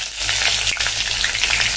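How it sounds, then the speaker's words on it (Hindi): Cumin seeds, a bay leaf, dried red chillies and slit green chillies sizzle and crackle steadily in hot oil in a pan, a dense continuous frying hiss without voices while cooking Punjabi food. "अपना तेल गरम हो गया है, अपने डालेंगे 1 चम्मच जितना जीरा, 1 तेज़पत्ता"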